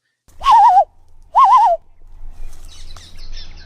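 A man whistles two loud, wavering bird-like calls in quick succession, imitating birds, followed by faint chirps and low background rumble outdoors.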